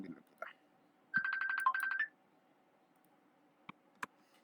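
A phone ringtone sounds once, a short, faint melodic burst of about a second in a quiet room, followed by a couple of soft clicks.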